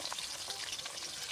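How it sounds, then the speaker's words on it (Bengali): Khoira fish fry in a pan of oil, a soft, even sizzle with light crackles throughout, faint and steady, with nothing else heard. "মাছগুলো ভাজা হতে থাক"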